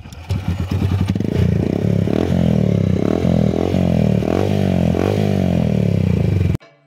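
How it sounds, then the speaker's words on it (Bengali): A Honda Shine SP125 motorcycle with a wrapped exhaust band pipe idles loudly close by, then revs in a series of rhythmic throttle blips with a rough, throbbing exhaust note before cutting off abruptly. "এখন সাউন্ডও ঠিক হয়ে গেছে, সাউন্ড আবার তোমাদের দেখাই।"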